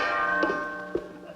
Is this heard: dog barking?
no